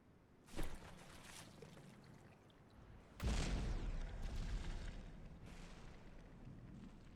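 Torpedoes striking the battleship Yamato in the naval game From the Depths: a sharp distant boom, then a heavier deep impact followed by a sustained rumbling roar and a third fainter hit, all under low background noise.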